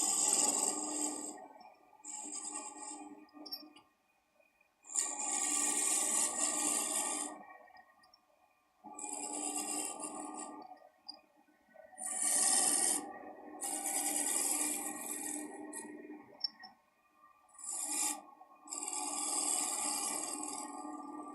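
Metal lathe turning a pen blank in a small shop, cutting in bursts of a few seconds each with short pauses between, a steady close rasping whir that stops and restarts several times, with no talking.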